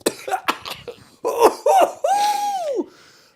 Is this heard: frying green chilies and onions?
no